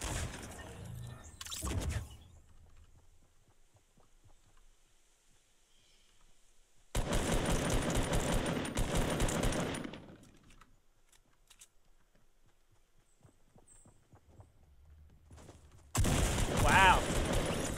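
Bursts of rapid automatic gunfire from the Fortnite Battle Royale video game come in three separate volleys, with quiet stretches between them.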